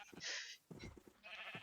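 Minecraft sheep in an animal pen bleat in a few short nasal calls with brief pauses between them, close and fairly quiet.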